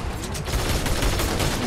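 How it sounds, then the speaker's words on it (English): Dense, continuous burst of gunfire in the video game Fortnite, loud and close, with rapid overlapping shots filling the short moment and no voices. "I'm still getting shot from behind, right here!"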